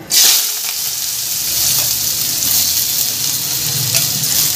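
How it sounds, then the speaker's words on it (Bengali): Potatoes frying in hot mustard oil in a kadai, a loud burst of sizzle as they go in, then a dense, even hiss of frying that holds close and steady throughout. "তেল গরম হয়ে গেছে, এবার আমি আলুগুলোকে ভেজে নেব।"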